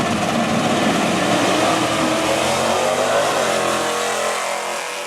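A 1984 Dodge Cuda drag racing car roars hard down the strip at Motion Raceway, a loud, continuous wideband engine blast that holds steady for several seconds before easing slightly at the end, with no voices.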